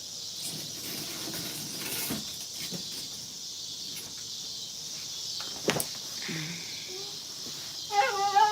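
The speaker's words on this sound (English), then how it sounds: "Do you hear the grasshoppers and locusts and all that?" Grasshoppers and locusts chirp outdoors at night in a steady, high, faint chorus that runs throughout, with a few soft thumps and a brief whistle-like sound near the end.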